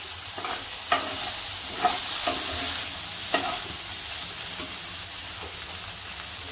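Okra (bhindi) cooks in a pan with a steady, close frying sizzle, broken every second or so by soft scraping stirs of a spatula.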